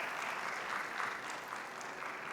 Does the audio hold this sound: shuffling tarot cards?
no